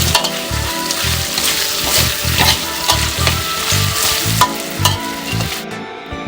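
Pork stir-fried in a pan with fried garlic, a loud steady sizzle broken by rhythmic scraping strokes of the spatula, close and continuous, with no voices.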